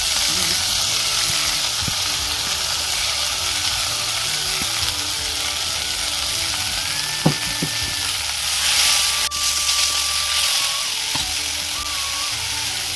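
Leafy greens sizzling in a hot pan with browned fried onions, a continuous close frying hiss with occasional utensil scrapes and clinks, no talk.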